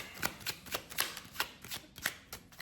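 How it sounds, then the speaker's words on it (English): A deck of playing cards being shuffled during a card-trick demonstration, a quick run of about a dozen crisp riffling flutters in fairly even rhythm, close and clear with no talking. "we can shuffle the deck, doesn't really matter"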